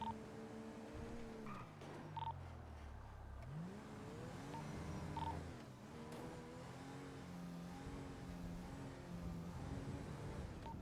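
A car in a roleplay game pulling away, engine revving up and down through several gear-like sweeps with occasional tire squeal, fairly quiet and continuous.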